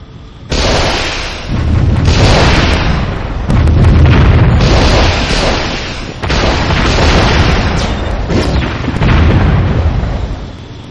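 Laser satellite strikes in the strategy game Warzone 2100 roar as loud, sustained explosions, several rumbling blasts rolling into one another with dense low booms and crackle.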